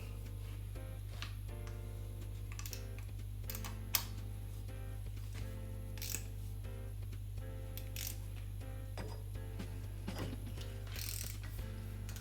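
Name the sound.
big ratchet tightening Land Rover Defender front hub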